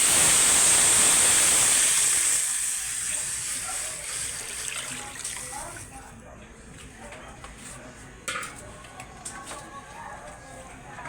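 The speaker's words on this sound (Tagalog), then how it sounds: "Lalagyan na natin ng chicken broth." Chicken broth poured into a pan of sautéed garlic and onion, a loud rushing gush of liquid at first that fades over a few seconds into quieter simmering bubbles and light clatter.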